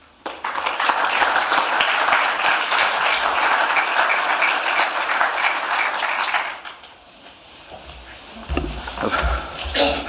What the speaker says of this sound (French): je vous demande d'accueillir et d'applaudir chaleureusement nos